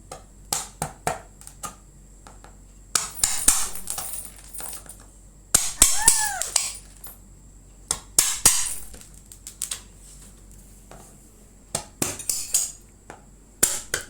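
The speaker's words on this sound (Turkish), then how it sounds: "Şimdi bu kumbarayı e, kesip içinden paralarımızı alacağız." A knife hacks and scrapes at a piggy bank, producing sharp, irregular cracking and tapping bursts in close clusters with quiet pauses between them.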